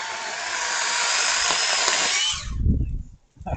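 A small mini chainsaw cuts through a branch, a loud steady high buzzing whine that runs alone for about two and a half seconds before cutting off, followed by low thumps and handling noise.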